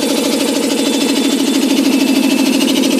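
A Chinese air compressor's 3 kW three-phase 380 V electric motor, rated at 1410 rpm and mounted on an angle-iron frame with a V-twin head, runs with a loud, steady hum and a fast, even throb throughout.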